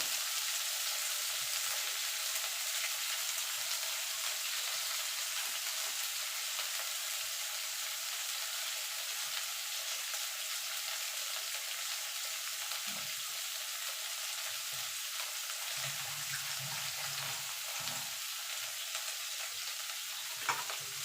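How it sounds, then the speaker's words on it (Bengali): Bitter gourd (karela) pieces seasoned with salt and turmeric fry in a pan, giving a continuous, even hiss of sizzling oil with occasional soft stirring knocks, moderately close and without voices. "করলাগুলো লাল লাল করে ভেজে নেবো"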